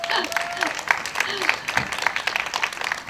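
Audience applause at an outdoor acoustic music festival, scattered clapping with bright sharp hand claps, mixed with brief voices from the stage at the start.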